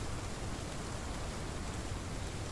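Steady, even rain hissing in the dinosaur survival game Path of Titans, a dense wash of falling drops with no voices over it.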